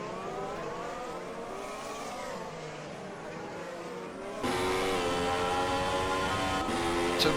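A race car engine in a racing sim drones at high revs, then jumps louder and buzzes against the rev limiter with a sustained, slightly stuttering whine.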